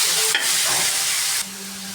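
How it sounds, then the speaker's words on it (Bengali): Garlic and chopped onion fry in a pan with a steady, close, broadband sizzle, briefly disturbed by stirring, then settling into a quieter hiss. "এখন এর মধ্যে দিব পেঁয়াজ কুচি। পেঁয়াজটাকে সুন্দর করে লাল করে ভেজে নেব।"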